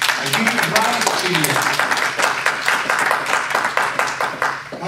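A church congregation claps and applauds during a Portuguese-language worship service, a steady dense patter of many hands filling the space, with voices mixed in underneath.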